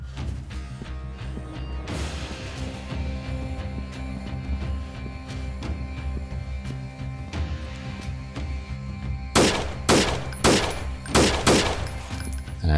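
Gunfire from the video game Freeman: Guerrilla Warfare, a steady stream of distant shots over game ambience, ending in several loud, close sharp bursts in quick succession.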